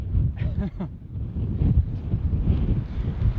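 Strong wind buffets the microphone on top of a castle in Milan, a loud continuous low rumbling roar that gusts throughout, with a voice briefly audible near the start.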